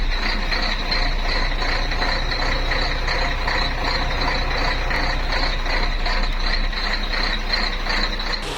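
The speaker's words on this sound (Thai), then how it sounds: "ฟังเสียงเครื่องนะครับเสียงตักเครื่อง สแกนเนียหนึ่งสามนะครับ" Scania diesel engine of a double-decker tour coach running steadily, a dense continuous mechanical drone with rattling, ticking texture and a high whine, loud and close throughout with no talk.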